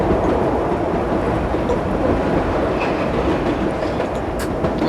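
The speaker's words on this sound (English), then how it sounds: "I like how it goes when the train bounces when it goes over set points" Simulated New York Line 7 subway train in the World of Subways game running along the track, a steady loud rumble of wheels with faint rhythmic clatter throughout and no voices.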